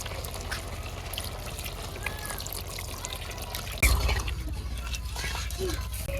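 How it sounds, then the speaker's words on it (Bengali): Water is poured into a pan of sautéed cauliflower for a prawn and cauliflower curry: a low, steady sizzle, then a sudden splash and a continuing close gush of pouring. "ফুলকপি কষান হয়ে গেছে আমি একটু জল দিয়ে দেই"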